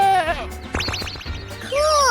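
Sheep bleat in a wavering, nasal call at the start and again at the end, with a quick burst of brighter animal cries in the middle, close and fairly loud over a low background hum.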